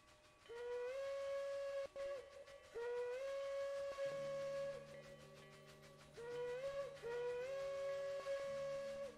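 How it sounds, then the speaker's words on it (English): A steam whistle on a model railway layout blows in repeated long, steady blasts, loud and close, with a lower second tone joining partway through; no one talks over it. "that's the kind of whistle that I want to be hearing"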